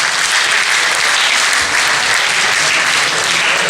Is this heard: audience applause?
yes